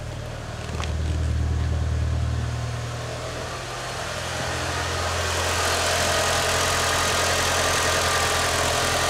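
A Mitsubishi 4G63T turbo engine idles just after starting, following an ignition lead replacement: a steady low rumble that swells slightly, then settles into an even, close idle with no talk.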